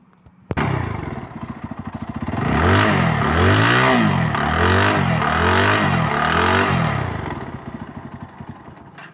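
A Bajaj Pulsar NS motorcycle engine with a knocking connecting rod starts abruptly and revs up and down in repeated swells, loud and close, with a rough mechanical clatter under the engine note.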